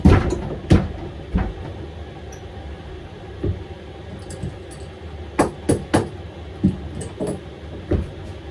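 A Chinese diesel heater in a van gives sharp irregular knocks and bangs, loud and close, some spaced seconds apart and others bunched in quick runs, over a low background hum.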